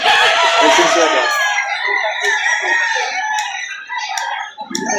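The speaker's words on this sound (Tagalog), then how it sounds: "Gandang klaseng manok." A rooster of about 8 to 9 months, shown for sale at a poultry market in Lipa City, Batangas, crows loudly and at length up close, with clucks and background voices of people talking.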